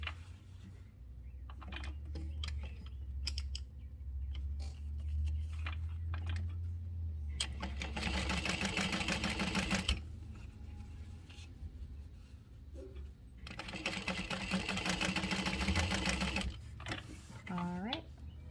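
A sewing machine topstitches across fabric in two long, steady, whirring runs, with lighter clicking and handling noises between them. A low hum sits under the first part.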